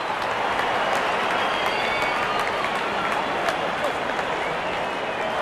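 Crowd at an IPL cricket match between Lucknow Super Giants and Rajasthan Royals cheering and applauding a batsman's fifty, a dense continuous roar of clapping and voices, loud and unbroken throughout.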